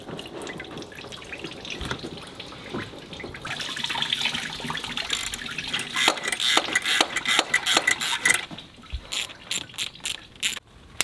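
Coolant draining from a BMW 5 Series E39 near the water pump, a soft trickle that grows into irregular dripping and splashing, fairly quiet with no speech.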